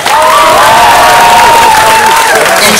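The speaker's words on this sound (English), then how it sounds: "how about a round of applause to your friends?" Audience at a hypnosis show claps and cheers for the volunteers, a loud, dense wash of applause and shouting with a rising whoop over the top, close and sustained throughout.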